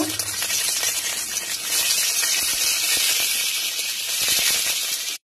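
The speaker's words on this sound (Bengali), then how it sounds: "পনিরগুলো ভেজে নেব।" Paneer pieces fry in hot oil, a dense continuous hiss and crackle that stays loud and close throughout before cutting off abruptly; no voices.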